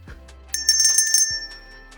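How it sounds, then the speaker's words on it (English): A bright bell ding rings out a few times in quick succession, clear and close like a winner's chime, followed by a lingering high tone that fades out. "Ding, ding, ding!"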